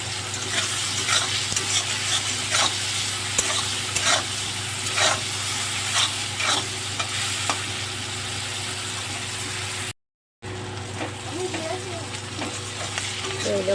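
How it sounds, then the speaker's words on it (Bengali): Shrimp frying in oil in a pan, a steady close sizzle with crackling pops running continuously, briefly cut off once, with no talking. "তো এই দেখো, আমার চিংড়ি মাছটা ভাজা হয়ে গেছে।"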